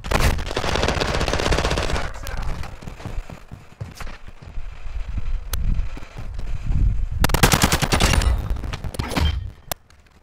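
Hemlok rifle firing incendiary rounds in a video game, loud rapid bursts of gunfire with sharp cracks and booming impacts, several separate volleys over ten seconds with no talk.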